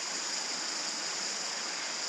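A creek on a farm in southeast Queensland runs steadily nearby, an even hissing rush of water with no pauses and no voices.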